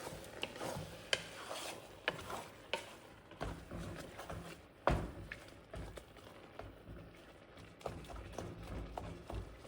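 Amaranth and sorrel leaf curry stirred in a pan, quiet wet scraping and rubbing strokes with occasional soft knocks of the spoon, close but faint, irregular rhythm, no talking.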